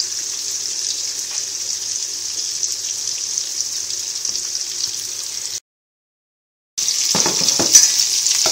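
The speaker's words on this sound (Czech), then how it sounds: "Druhá pánev se nám nahřívá na bramboráky, máme jí olej, šalotku jemně promícháme a necháme zpěnit." Shallot sizzling in hot oil in a pan, a bright steady frying hiss with faint stirring scrapes, a brief gap of silence, then the sizzle returns louder with clattering as the pan is stirred.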